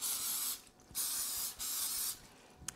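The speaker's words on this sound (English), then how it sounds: "So I'm gonna spray each one down pretty generously with just some olive oil" Olive oil cooking spray hisses from an aerosol can into bread pans in three long bursts with short pauses between them and a brief fourth spurt at the end, close and clear with no talking.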